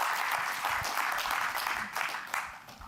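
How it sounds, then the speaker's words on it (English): Crowd at the Paris 2024 Olympic handball draw event applauds a coach standing on stage, a dense, full round of clapping that swells and dips slightly before easing off near the end. "Make a round of applause for Jérôme Fernandez."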